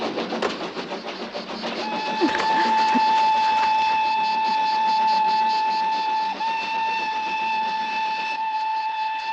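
A train rumbles along steadily with a rhythmic clatter, then a long sustained whistle-like tone rings out and holds, loud and close.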